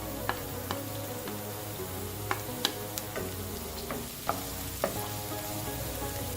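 Chopped garlic and ginger fry in cooking oil in a wok, giving a loud continuous sizzle with scattered sharp clicks and taps from stirring.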